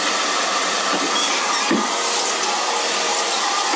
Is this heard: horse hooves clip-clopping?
no